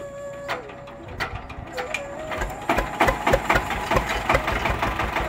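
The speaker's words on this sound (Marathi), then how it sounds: "अशा प्रकारे इंजिन चालू केलं याचं" A boat engine turns over and catches, settling into an uneven, knocking run with rapid mechanical clatter that grows busier, close by, with faint voices in the background.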